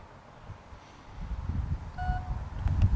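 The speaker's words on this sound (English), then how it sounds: "you hold this until you hear the beep" A short electronic confirmation beep sounds once from the powered tailgate of a 2020 Mercedes GLB SUV while the tailgate's open height is being set, a faint clear tone over low background rumble.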